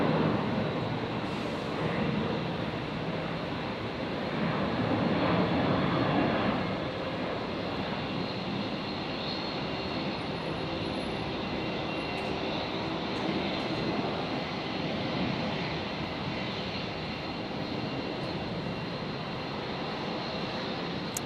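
A Virgin Australia jet, flight Velocity 447, departs Brisbane Airport with a continuous broad engine roar that holds steady for the whole stretch, swelling slightly early on, heard from a distance without voices.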